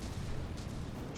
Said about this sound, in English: Mortars are finally doing some work, which is nice.